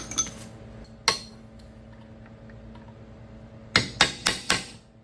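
Metal struck with a checkered-face hammer while fabricating a torsion bar delete for a 1960-62 Chevy C10: a few sharp ringing blows, then a quick burst of four close, loud strikes, alone in a quiet shop.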